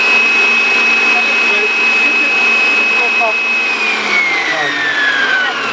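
A Farberware stand mixer runs on its fast setting, a steady loud motor whine with a high tone that drops slightly in pitch near the end, with faint talk in the background.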